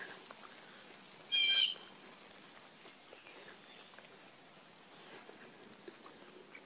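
Birds call in a snowy park with trees overhanging a walkway, one brief bright burst early on and scattered faint chirps over steady hiss of rain.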